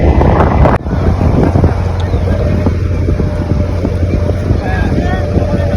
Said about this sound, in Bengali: সব ফিশিং বোট ওয়েস্ট বেঙ্গলের 2024-এ এই সব একদম বেরিয়ে যাচ্ছে লাইন ধরে একদম, দেখতে পাচ্ছেন